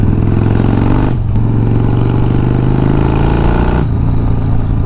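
A Harley-Davidson FXR motorcycle engine idling and running loud and close, a continuous throaty rumble with mechanical clatter and two brief dips in level.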